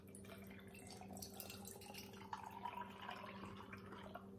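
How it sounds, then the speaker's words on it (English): Coffee trickles and splashes out of a pitcher into a glass while the lid is pushed down, a faint, steady liquid stream with a low hum underneath and no speech. "You wanna push this down so the coffee comes out."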